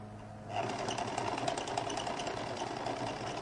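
A sewing machine runs steadily while stitching a lady's jacket, a continuous mechanical whir with a fast rhythmic needle patter starting after a brief quiet moment and holding at moderate loudness to the end.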